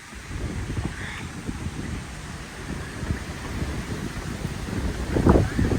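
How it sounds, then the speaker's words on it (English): Gusty wind buffets the microphone in Hyde Park, London, with a continuous low rumble that swells near the end. "it's so windy here,"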